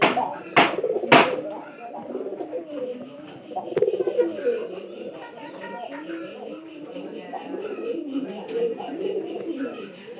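Pigeons released outside near a tree on a pigeon-rearing homestead coo softly in overlapping low calls, with a couple of sharp wing-flap bursts at the start and faint background noise.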